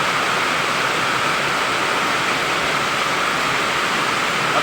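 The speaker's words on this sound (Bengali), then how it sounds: "কত জোরে বৃষ্টি হচ্ছে।" Heavy monsoon rain pours down in Malaysia as a dense, steady roar that stays loud and unbroken throughout, with no voices.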